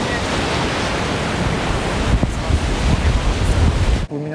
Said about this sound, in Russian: несмотря на ветер, море, шум, мы имеем с вами вполне хороший звук